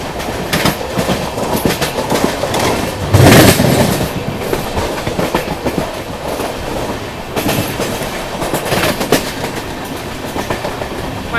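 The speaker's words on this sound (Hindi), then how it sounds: "ये निकली आपकी तिरुपति वंदे भारत एक्सप्रेस" The Tirupati Vande Bharat Express rushes past at close range, a loud continuous roar with rhythmic clickety-clack of wheels over rail joints and brief squeals, sustained throughout without voices.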